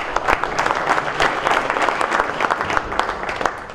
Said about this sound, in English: One more round of applause for the med section